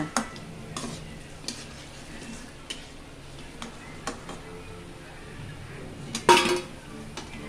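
Steady crackling and bubbling of horse gram vada frying in hot oil, with occasional clinks of a metal utensil against the pan and one louder clatter.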